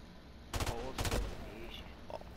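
Gunfire in Call of Duty Modern Warfare Remastered, two quick loud bursts of automatic shots half a second apart, followed by fainter game sounds.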